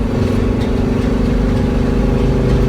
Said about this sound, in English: So it seems like it's still accelerating very good.